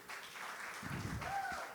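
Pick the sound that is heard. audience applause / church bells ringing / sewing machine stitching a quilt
audience applause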